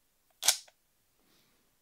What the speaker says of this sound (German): man hört schon, leise ist die Kamera nicht, zwar leiser als eine Spiegelreflex